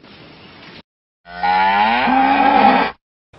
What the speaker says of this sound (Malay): Lembu.